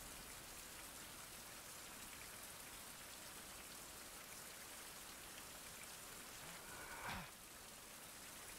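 Steady, even rain in the video game Survival: Fountain of Youth hisses throughout, with one brief thump-like sound near the end.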